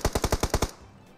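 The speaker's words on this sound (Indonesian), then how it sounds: "Tuh musuh tembakan di belakang" In a shooter video game, enemy fire comes as a rapid burst of six evenly spaced gunshots, loud and punchy, followed by a fading tail.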